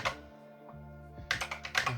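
Keys clatter on an Acorn Electron computer keyboard, a few quiet close presses with a pause, then a quicker run of crisp clicks, alone in a quiet room under a low steady hum.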